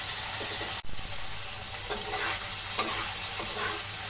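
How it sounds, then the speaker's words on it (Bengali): Dried fish sizzles in hot oil with spices, a steady frying hiss broken by a sharp knock and a few scraping stirs of the spoon, with no talk. "ভালোভাবে মশলাটা মাখিয়ে আরও একটু ভাজা ভাজা করে নেব।"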